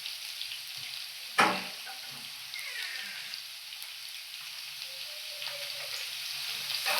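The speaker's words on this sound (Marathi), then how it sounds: "आणि तेल गरम झाल्यानंतर आपण लसूण टाकूया." Garlic frying in hot oil for a Marathi Bombay duck masala, a steady soft sizzle at low level with one sharp clatter early on.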